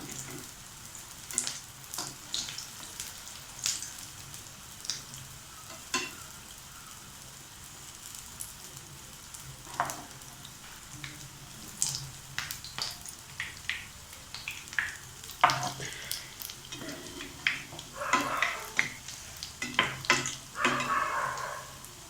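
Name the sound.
sweet bonda dough balls frying in hot oil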